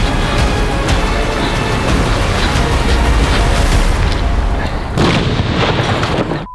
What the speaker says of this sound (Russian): Миша должен был увести автомобиль Костика и на его место поставить нашу заготовочку, взрыв которой и должен был услышать Никита